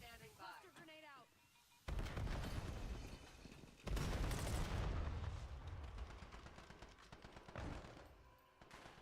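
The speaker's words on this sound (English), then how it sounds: "Cluster grenade out." A cluster grenade goes off in the Call of Duty Black Ops 7 online match, with two heavy, booming blasts followed by rolling rumble and scattered crackling; a voice speaks briefly at the start.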